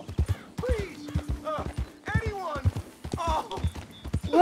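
A horse gallops in Red Dead Redemption 2, its quick rhythmic hoofbeats thudding steadily beneath a person talking excitedly.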